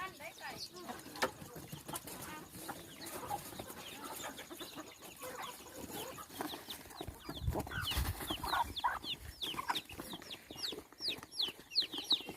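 Chickens cluck repeatedly at a rural rice-field hut in the evening, with ducks nearby; the clucks come in scattered bursts, growing busier toward the end, while a person talks intermittently in the background.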